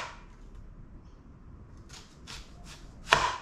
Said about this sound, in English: And we slice the onion in rings